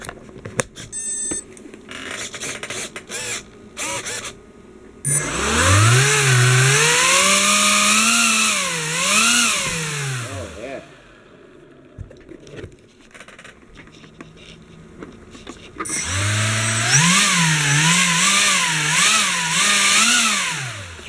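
An air-powered RC snow sled's ducted fan whines up to a high, rising and falling pitch in two sustained runs at half throttle, separated by quieter clicks and handling noise.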